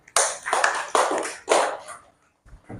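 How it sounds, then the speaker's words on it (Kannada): A classroom of children claps hands together in a few quick bursts, loud and near, fading after about two seconds; a soft knock or two follows. "ಚಪ್ಪಾಳೆ ಹಾಕ್ರಕ್ಕಿಗೆ"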